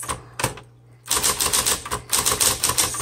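Red 1960s Smith Corona Electra 110 electric typewriter clacking out a rapid run of keystrokes after a short opening burst and pause, loud and close with the motor hum underneath.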